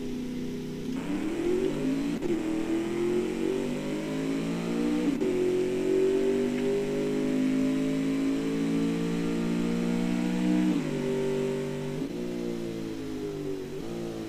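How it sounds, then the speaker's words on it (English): A simulated car engine revs on a test track in the Automation car-building game, rising through the gears in several pulls with brief drops between shifts. The tone is steady and mid-pitched, and no one speaks. "the car sounds are present on the test track as well"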